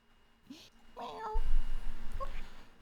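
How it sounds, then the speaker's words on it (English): A domestic cat meows a few times nearby, short rising calls mixed with people talking over it. "That is my cat, Casey."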